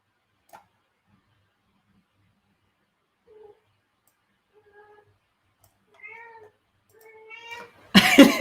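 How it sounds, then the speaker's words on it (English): A cat meows several times in the background of a quiet room, faint short calls growing longer and louder toward the end, followed by a burst of louder sound at the close. "You're my kitty cat in the background."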